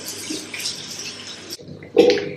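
Warm water runs from a tap onto a Sarah Chapman cleansing mitt, a close hissing splash that breaks off briefly and then returns stronger with a wet sloshing gush, with no one talking.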